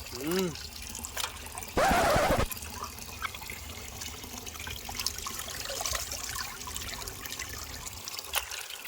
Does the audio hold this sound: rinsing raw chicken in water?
yes